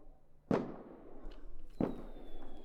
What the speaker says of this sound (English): Just as I reached the outside, the explosion battered in my ears.